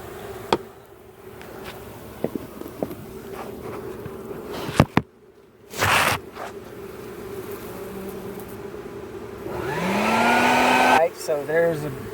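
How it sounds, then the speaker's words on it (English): A vacuum cleaner sucks up clustering honeybees during a bee removal from a trailer in Auburndale, Florida. Buzzing and intermittent knocks build to a loud rising motor whine near the end, then a few sharp bursts. "So I'm gonna vacuum those right now."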